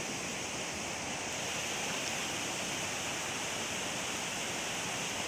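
A small village stream runs with a strong current, producing a steady, even rush of water that stays soft and continuous throughout with no other sounds.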